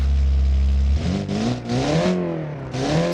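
Car engine in the BeamNG driving game, holding a loud low drone before climbing through rising and falling revs with shifts, close and alone with no talking.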